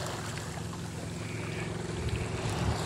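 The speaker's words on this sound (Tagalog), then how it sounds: "May hangin, malakas na po yung hangin kasi" Steady, heavy wind roar buffeting the microphone outdoors, with low rumbling gusts that grow stronger toward the end.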